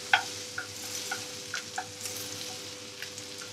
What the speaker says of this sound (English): we're going to roll the ballotine around, a nice even coating of foaming butter